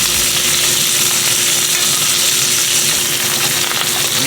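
Steak fries in a pan with butter, thyme and garlic, giving a loud, dense, continuous sizzle that stays even throughout, close up and with no voices.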